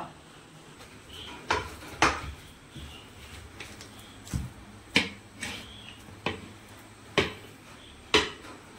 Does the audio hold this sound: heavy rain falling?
no